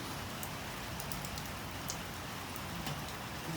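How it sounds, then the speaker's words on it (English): Pouring rain hisses in a dense, steady wash outdoors, with occasional sharper drops pattering nearby. "Even in this pouring rain,"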